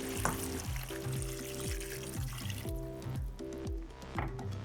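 Water pours steadily into a pot, a soft splashing trickle with a low musical tone running underneath.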